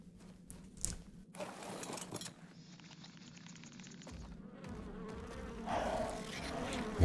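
Giant Meganeura insects buzzing in ARK: The Island, a steady droning hum carried through the whole stretch with rising intensity toward the end, no voices over it.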